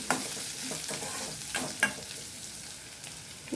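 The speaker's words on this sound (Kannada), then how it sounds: "ಎರಡು ಮೆಣಸಿನ್ಕಾಯಿ ಹಾಕೋತೀನಿ ಈರುಳ್ಳಿ ಹಾಕ್ತೀನಿ ಸ್ವಲ್ಪ ಫ್ರೈ ಮಾಡ್ಕೊಳ್ಳೋಣ ಚೆನ್ನಾಗಿ" Onions and green chilies fry in a pan, a steady sizzle broken by a few sharp scraping stirs, close and moderately loud with no talking.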